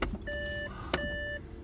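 Car warning chime beeping with the door opened, two long steady electronic tones one after another over a low idling engine hum, with a brief click between them.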